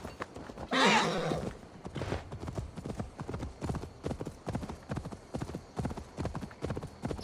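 A horse in the Assassin's Creed Valhalla video game gives a loud whinny near the start, then its hooves clip-clop in a steady, rhythmic gallop that keeps going to the end.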